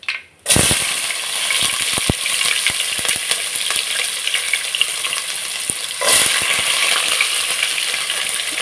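Onions sizzling in hot oil for a vegetable biryani, a loud steady fry with sharp crackles and pops, renewed by a burst as more goes into the pan partway through.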